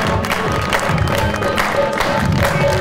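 A television studio audience applauds steadily to welcome a guest, dense continuous clapping with some cheering underneath, loud and sustained throughout.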